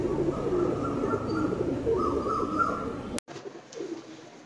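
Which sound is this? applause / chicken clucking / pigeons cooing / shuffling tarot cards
pigeons cooing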